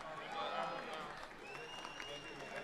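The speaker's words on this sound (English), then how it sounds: "I said give yourselves a hand." A crowd at a summer drive-in wrestling show claps and cheers for itself, faint distant applause blended with shouting voices, fairly quiet and brief.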